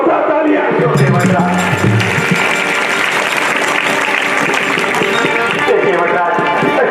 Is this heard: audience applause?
yes